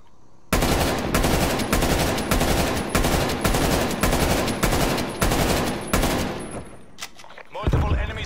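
An enemy sentry turret in Call of Duty Cold War hammers out a loud, sustained automatic burst in rapid rhythmic pulses, then cuts off into quieter scattered shots and game noise.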